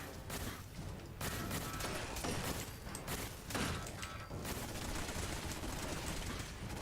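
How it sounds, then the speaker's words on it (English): Rapid-firing turret gunfire in the Fallout video game, dense continuous bursts of automatic shots with short breaks between volleys, fairly close and sustained at a moderate level. "The turret is obviously rapid fire."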